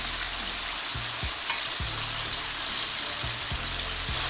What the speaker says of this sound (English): Now these go straight into the hot oil.